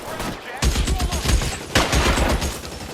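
A dense burst of gunfire from the video game L.A. Noire, with repeated close shots and booming hits layered over one another, while voices shout beneath.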